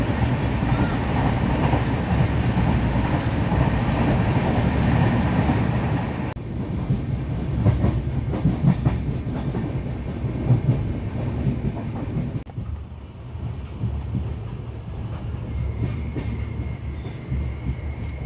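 A train thunders through a station at high speed, a loud continuous rumble and rattle of wagons, steady at first and then somewhat fainter and thinner toward the end, with no talking.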